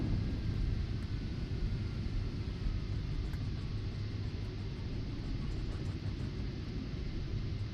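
Boeing 737NG airliner braking on the runway after a hard landing at Palm Springs, a loud continuous broadband roar and rumble steady throughout, with no voices.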